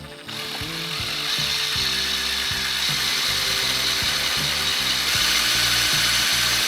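A cordless drill whirs and grinds steadily through aluminium up close, with a rattling mechanical clicking underneath.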